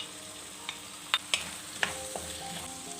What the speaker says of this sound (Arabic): نرميو توا كل طريف كالاماري بسم الله ونخليه يتقلى شويه